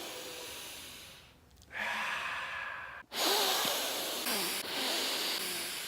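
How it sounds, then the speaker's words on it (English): A person draws in a big, slow breath, with airy inhales and exhales that swell and fade across several seconds, close and fairly loud, and nobody speaking. "take a big breath"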